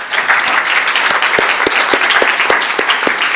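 Audience at an academic mathematics conference applauding the organizers: steady, dense clapping from a roomful of people, sustained and fairly loud throughout, with a few sharper individual claps standing out near the front and no talking over it.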